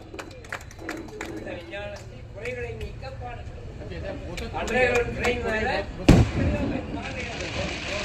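Firecrackers burst with a loud sharp bang near the end of an outdoor Tamil poetry recital, following stretches of speech and crowd noise.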